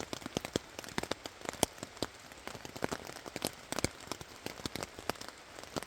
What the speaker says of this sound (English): First time I've used this tent in the rain, so I'm hoping it's actually watertight.